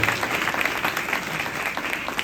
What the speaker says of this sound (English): I like being applauded